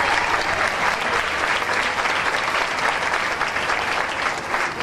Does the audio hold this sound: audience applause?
yes